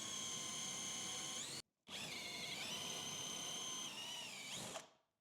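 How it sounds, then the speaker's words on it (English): A power drill bores pocket holes in 18 mm plywood through a pocket hole jig, giving two high-pitched whining runs split by a short pause. The pitch dips as the bit bites into the wood, and the sound is close with no talking. "Let's drill some holes in this 18 millimeter plywood and see how clean they come out."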